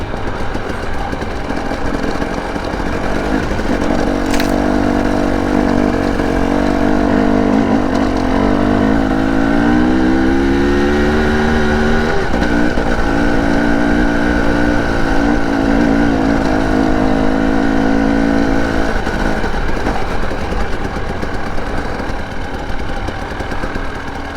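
A Husqvarna TE 300i two-stroke dirt bike engine runs loud and close while riding, holding a steady drone with rising and falling revs through the stretch, no talking.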